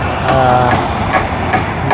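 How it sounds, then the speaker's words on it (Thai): Hammer blows on a nail that will not drive in, about four sharp regular strikes over a steady background of machinery hum and voices, close and loud. "ตอกบ่เข้าพี่น้องเลยเนาะ"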